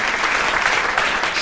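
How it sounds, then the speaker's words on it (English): Steady audience applause from a live event crowd, dense and continuous throughout with no break, fairly close and loud. "Let's give ourselves a round of applause."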